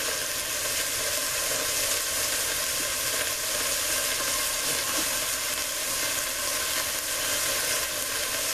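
Minced garlic and chili fry loudly in a pan with tomatoes, a dense continuous sizzle that holds at an even level throughout.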